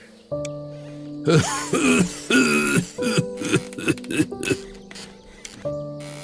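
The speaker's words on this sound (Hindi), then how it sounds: "आपको बहुत खांसी भी आ रही है।" A series of hoarse coughs and throat-clearing sounds, several in quick succession, close by over a faint background hum.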